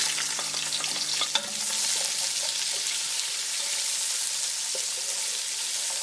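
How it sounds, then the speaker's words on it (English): Sliced onions and roasting spices frying in a pan, with a steady broadband sizzle throughout, a few stirring scrapes and a brief clink early on, close and fairly loud with no talking. "Right, these spices are roasting beautifully. Let's add the sliced onions in now."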